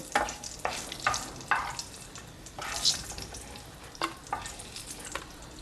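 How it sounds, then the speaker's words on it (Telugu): Dry red chillies roasting in a pan with soft sizzling and scraping stir strokes, a steady near crackle broken by short louder stirring bursts, no voices. "ఎండుమిర్చి ఫ్రై చేసి తీసుకుందామండి"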